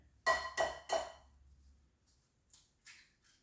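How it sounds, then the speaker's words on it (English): Eggs cracked one after another into a bowl: three close, crisp taps in quick succession, then a few softer knocks, with no talk over them. "We're gonna crack the eggs and get them in there."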